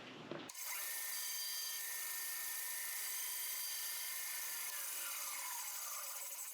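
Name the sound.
bandsaw making relief cuts in wood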